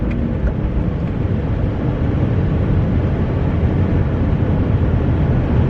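A BMW 130i driving hard with aggressive gear shifts, heard from inside as a loud, steady roar of engine and road noise that runs unbroken throughout, with no talking.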